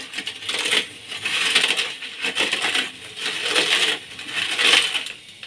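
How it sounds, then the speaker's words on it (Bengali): Fried papad crushed by hand gives loud, brittle crackling crunches in rhythmic bursts, about five squeezes one after another, close up with no talking. "আলুগুলো ভাজা হতে হতে আমি এপাশে পাঁপড়গুলো গুঁড়িয়ে নেব"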